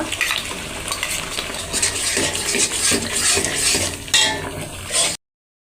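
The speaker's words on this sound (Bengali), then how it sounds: "জিরে, ধনে, বাবা তেল ছিটাচ্ছে" Cumin and coriander frying in hot oil with tomato paste, sputtering and spattering close by while a utensil stirs and clinks against the pot, ending abruptly.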